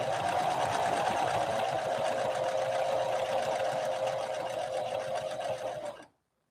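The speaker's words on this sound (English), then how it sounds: "All right, let's try this 3-point zigzag again." A Singer 5808C sewing machine runs steadily on a wide 3-point zigzag stitch, a close, continuous whirring hum for about six seconds that stops abruptly.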